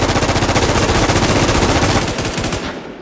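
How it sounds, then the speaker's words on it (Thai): Sustained automatic gunfire in a video game, fired at long range as a loud, steady, evenly spaced stream of shots that runs about three seconds and then trails off, with no speech. "เราจะยิงไกลละ"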